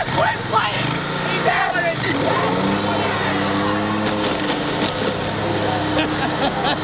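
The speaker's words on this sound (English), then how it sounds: "Mowing my game so maybe you'll quit playing for a while, get a job, pay some of your bills." Petrol lawn mower engine running loudly and continuously over video games and consoles, with crunching and splintering as the blades chew through plastic, while people talk over it throughout.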